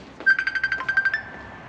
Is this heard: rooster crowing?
no